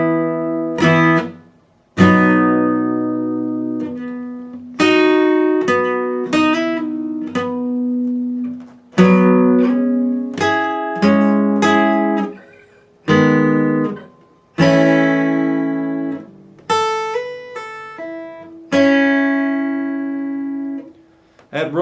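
An electric or acoustic guitar slowly picks the opening verse riff of a song, each plucked note and chord ringing out in separated phrases with short gaps between them, close and alone without voices.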